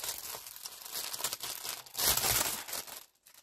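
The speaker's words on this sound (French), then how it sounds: "Donc je déballe. Je jette le sachet." An item is unwrapped from a thin plastic bag, with close crinkling and rustling that swells into a louder tearing crackle before falling quiet.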